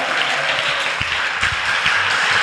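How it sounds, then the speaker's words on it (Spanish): Church congregation applauding as an offering of palms during a Spanish-language sermon: steady, dense clapping from many hands throughout, moderately loud and continuous with no speech over it. "Denles ofrenda de palmas al Señor."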